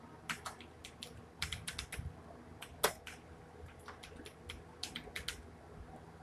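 Fingers tap a computer keyboard while typing a document in MS Word, giving quiet, irregular clusters of sharp clicks with one louder keystroke midway.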